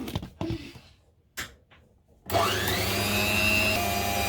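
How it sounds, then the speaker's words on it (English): An electric kitchen mixer, used while making a Lotus Biscoff billionaire slice, whirs up to speed after a few clunks and handling noises, then holds a loud, steady motor drone to the end. "Here we go, back to the mixer."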